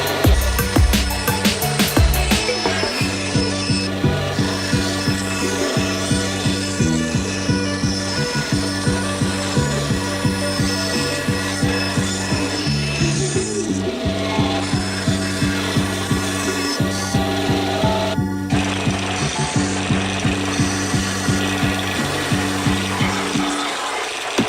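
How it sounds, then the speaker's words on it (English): A bandsaw cuts wooden bow tie pieces with a steady pulsing drone that rises and falls as each cut is made, loud and continuous throughout with no talking. "So let's cut it out on the bandsaw."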